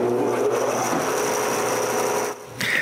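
A homemade wooden bandsaw runs steadily, giving a continuous whirring hum with a faint high whine, briefly dipping and returning near the end.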